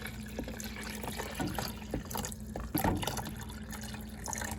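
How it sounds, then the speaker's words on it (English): Water poured from a container into a Black & Decker coffee maker's reservoir: a steady, close splashing trickle with a few brief louder splashes over nearly five seconds, and no talking. "I'm going to go ahead and pour the water into the coffee maker."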